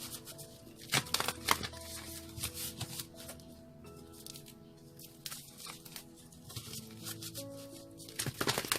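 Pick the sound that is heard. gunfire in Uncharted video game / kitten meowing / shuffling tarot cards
shuffling tarot cards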